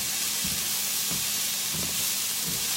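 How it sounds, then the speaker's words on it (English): Food sautéing in a hot pan, a steady bright sizzle and hiss with a few soft stirring thumps at regular intervals, close and alone. "I'm just gonna saute them"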